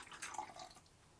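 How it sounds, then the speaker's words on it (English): Two-stroke fuel, mixed rich at 25 to 1, pours briefly into the tank of a hedge trimmer, giving a short, close liquid splash and trickle with no talking. "Let's give it a pour in there."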